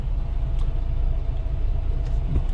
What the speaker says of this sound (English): We got a truck right there trying to get through